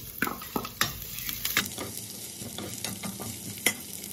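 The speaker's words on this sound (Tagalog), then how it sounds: "pag mainit na, ilagay na natin yung sibuyas." Onions sautéing in a hot pan for eggplant lasagna crackle quietly and steadily, broken by repeated clinks and scrapes of a utensil stirring against the pan.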